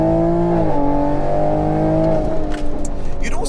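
A tuned 460bhp Stage 2 MKV Toyota Supra with an eight-speed gearbox drones loudly from close by, its engine note climbing and dropping through shifts, with a brief dip near the end.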